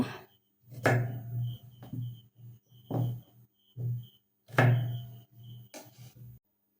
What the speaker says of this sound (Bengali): বাকি আলুগুলোকে এমনভাবে কাটছি দেখে রাখুন